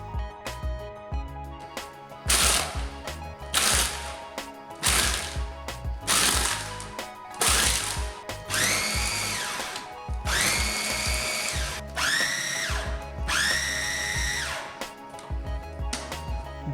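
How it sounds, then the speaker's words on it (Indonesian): Blender grinding a seasoning mixture with salt, chicken stock powder and sesame oil until smooth, in repeated loud whirring bursts that rise and cut off, the later pulses longer and steadier. "Blender hingga halus."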